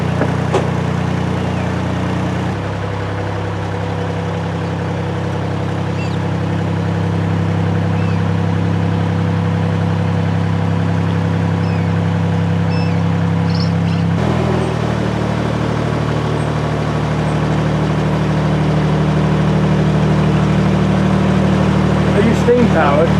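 A steam-powered canal boat engine chugs and hums continuously, close by, with a low rumbling tone that shifts slightly partway through.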